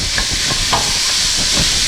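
Constant broad sizzle and hiss of chicken noodle soup ingredients frying in a pan, with faint scattered crackles throughout, close and steady.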